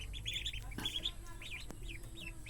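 Young male ducklings, bought for crossbreeding with ducks, peep in a steady run of high, repeated chirps over a low background hum, fairly close and continuous.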